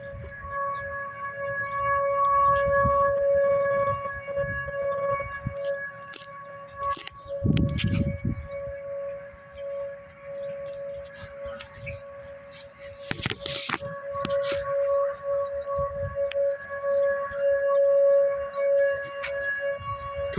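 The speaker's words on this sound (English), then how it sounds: "All right, sirens." Statewide tornado civil defense siren test across Iowa and Nebraska, rendered as steady sustained electronic tones held for about twenty seconds, loud and continuous with a few brief interruptions.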